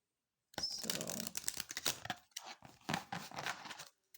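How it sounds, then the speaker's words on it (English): Oracle cards being shuffled close up, a quick riffling patter in two bursts with a short pause between, no talking. "if I can shuffle these cards"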